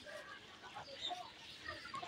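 Domestic country chickens clucking softly as they gather to eat chopped tomatoes, short scattered clucks close by over faint outdoor background noise.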